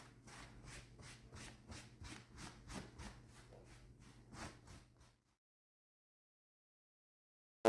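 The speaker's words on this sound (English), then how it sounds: "then I'm taking just a towel and wiping it off as much as I can." A towel rubs paint off a fireplace surface in quick, regular back-and-forth strokes, a soft scratchy wiping rhythm heard up close for about five seconds before stopping abruptly.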